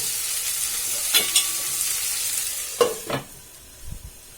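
Drumstick and potato curry is stirred in a pan with a spatula, scraping and clinking in a few short bursts over a low, steady sizzle, close by with no talking.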